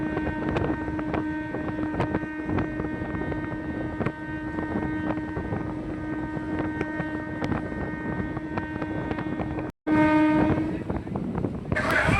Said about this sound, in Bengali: আর বন্ধুরা, আমাদের ট্রেন এসে পৌঁছালো হৃদয়পুর স্টেশন।